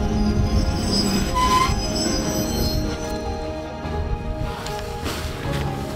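Desert freight train to Nouadhibou with high metallic wheel squeals over a loud, constant rolling rumble and clatter of wagons, heard up close from on board.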